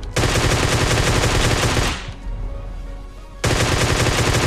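Sustained automatic gunfire in PUBG Mobile rattles loud and close, breaks off for about a second and a half into a quieter ambient lull, then resumes at full force.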